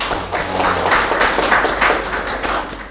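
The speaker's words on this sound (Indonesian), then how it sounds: "Tepuk tangan untuk Mas Tony ya" Listeners at a data analysis class session clap for a presenter named Tony, a short, loud burst of close, uneven hand claps with a few heavier taps.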